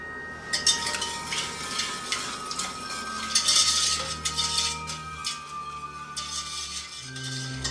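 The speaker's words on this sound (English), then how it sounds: "We're going to add in the sugar, the salt, the lemon zest, and the lemon juice, and we're going to whisk that until it's well blended." Whisk stirring sugar, salt, lemon zest and lemon juice in a pan off the heat for a no-bake lemon tart, a continuous close scraping and clinking of metal against the pan with light rattles throughout.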